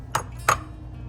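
Two sharp, brief taps of an egg cracked against the edge of a bowl, spaced about a third of a second apart, close and distinct over a quiet kitchen background.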